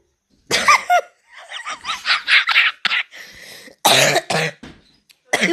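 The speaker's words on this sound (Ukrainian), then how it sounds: "я кашляю" A person coughs repeatedly up close, in a loud fit of harsh bursts separated by short pauses.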